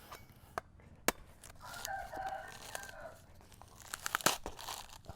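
A fresh coconut has its husk peeled with a hand tool, giving scattered sharp tearing and cracking snaps close by, while a rooster crows in the background.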